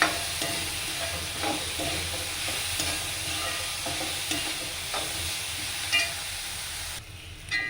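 Chopped capsicum sautéing in a pan for paneer curry: a steady close sizzle with scattered stirring scrapes and clinks, continuous throughout and alone without speech.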